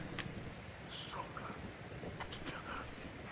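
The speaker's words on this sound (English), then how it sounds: "Pierce storm over a tin roof." Heavy rain drums on a tin roof during a thunderstorm, making a dense, constant patter with faint low rumbles underneath.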